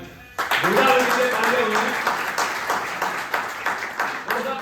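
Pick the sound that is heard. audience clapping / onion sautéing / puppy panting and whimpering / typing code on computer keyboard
audience clapping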